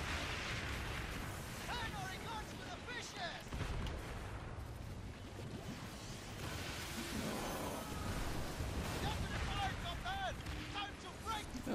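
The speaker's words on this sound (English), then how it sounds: "Oh, they got mortars." Mortar fire in the pirate naval game Skull and Bones, with a steady rumble of booms and bursts of explosions layered over chaotic battle noise, while a player talks over it.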